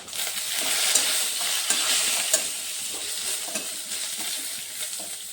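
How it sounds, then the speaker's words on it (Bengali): Panch phoron spices and bay leaf hit hot oil with a bright, steady sizzle and crackle, with stirring and occasional scrapes and clinks of a utensil against the pan, close and alone without talk. "এই যে পাঁচফোড়ন দিয়ে দিচ্ছি।"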